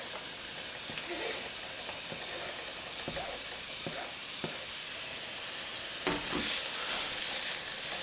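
Onion, garlic and ginger sizzle steadily in a hot pan, a continuous soft frying hiss with occasional clicks of stirring, swelling louder near the end.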